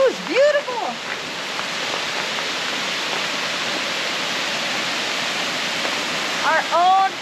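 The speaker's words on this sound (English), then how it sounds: "you can probably hear the waterfall in the background." Steady broadband rush of a waterfall on a South Pacific island, continuous and moderately loud in the background, with a few brief bird or voice chirps at the start and end.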